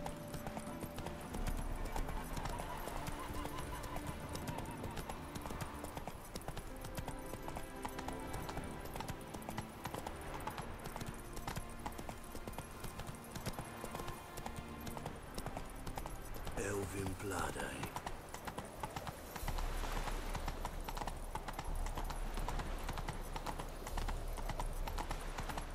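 Horse hooves clip-clop in a steady galloping rhythm in The Witcher 3 video game, continuous over background game ambience and music, with a brief neigh-like burst partway through.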